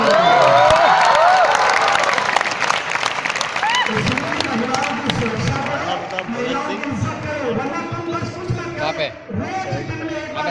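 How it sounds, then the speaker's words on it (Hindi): Students at a motivational session clap loudly as a group, dense applause that gradually thins into scattered claps, with voices and shouts mixed in. "तो जो भाई है वो भी ताली बजाओ"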